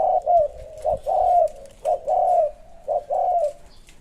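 A zebra dove decoy coos in a steady repeating pattern, four clear rolling calls close by, each made of a short note followed by a longer purring trill, with quiet gaps between them.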